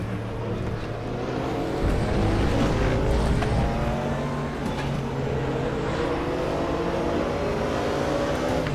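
GT3 race cars roaring around Paul Ricard in the RaceRoom VR racing sim, a steady loud engine drone with layered cars close together, rising slightly as the pack launches down the straight.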